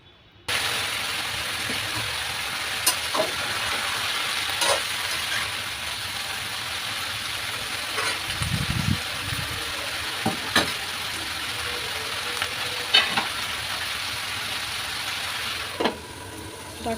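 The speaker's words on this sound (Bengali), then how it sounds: "ডাটা সহ নাড়াচাড়া করে নিচ্ছি। মশলার সাথে সবজিটা কষিয়ে নেব।" Pumpkin, potato and Malabar spinach with its stems fry in spices under a steady close sizzle. Scattered clicks and scrapes of stirring punctuate it, and one heavier low rumble of turning comes midway; no one speaks.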